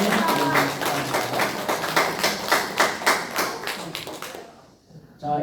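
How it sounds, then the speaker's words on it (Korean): A church congregation claps together during a Sunday worship service, a dense sustained burst of applause from many hands in a reverberant room, fading out near the end before a brief restart. "우리 박수로 그래도 축하해 주십시다."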